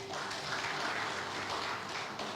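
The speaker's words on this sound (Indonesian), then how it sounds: "Tepuk tangan buat Tuhan." A church congregation claps in praise during a worship service, a continuous roomy wash of many hands with a low sustained musical tone underneath.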